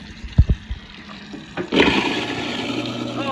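Ice and water go down a garbage disposal: a few dull knocks and thuds first, then the unit starts up into a rough, churning, watery grind that runs on steadily.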